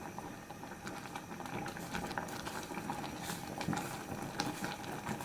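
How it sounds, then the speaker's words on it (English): Kenyan ugali is stirred with a wooden cooking stick as it cooks, with faint bubbling and soft thick plops and scrapes repeating gently over a quiet, close background. "This is ugali cooking stick, and you keep stirring just like that."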